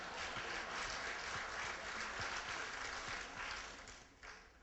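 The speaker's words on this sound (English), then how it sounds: "You can clap, it's okay." Audience applause fills the room at a civic gathering, steady dense clapping that holds for several seconds and then thins and fades toward the end, with no talk over it.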